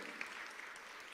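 A congregation's clapping in church rings out quietly and distantly for about a second, a soft continuous patter of hands.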